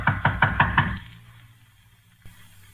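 Five quick, loud knocks on a wooden door in a 1948 radio detective drama, close and evenly spaced, followed by near silence and one faint thud.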